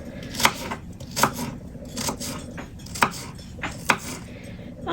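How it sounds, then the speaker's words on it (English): A kitchen knife chops an onion on a board in irregular sharp strikes, about six distinct close knocks spaced roughly a second apart, over faint background noise. "got the onion all chopped up here"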